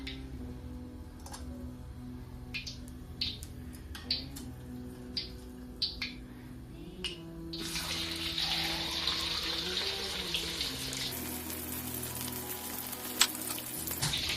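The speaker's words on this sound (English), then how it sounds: "tested that the oil is hot enough to cook the fish, we will be cooking it now" Fish crackles and sizzles as it drops into hot cooking oil, a steady close frying hiss rising midway after a series of light ticks and clinks, with no talking.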